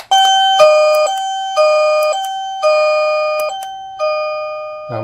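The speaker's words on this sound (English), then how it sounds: "So we're going to go ahead and ring the doorbell." A battery-operated Philips 90 dB wireless doorbell, model 498968, chimes five times in succession, each ring a clear, loud bell tone fading before the next strike, with no talking.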